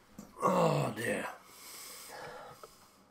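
A single sudden human sneeze, a sharp loud burst with a quick follow-up breath, then quieter breathing and faint sounds as it fades.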